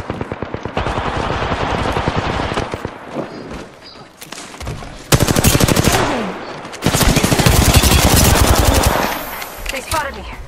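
Rapid automatic gunfire in a shooter video game, loud and close, with sustained bursts broken by short pauses and a few heavier blasts, while a player talks over it.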